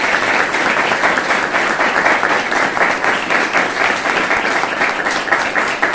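Audience gives warm, sustained applause for a volunteer firefighters' association in San Pedro, a dense, steady wash of clapping from a crowd that holds at full strength for several seconds without a break.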